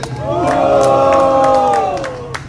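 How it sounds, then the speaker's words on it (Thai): A rally crowd in Nonthaburi, Thailand roars in a loud, sustained collective jeer that rises and holds for about two seconds before fading, close and dense. "ขอเสียงโห่ให้มันอีกครั้ง"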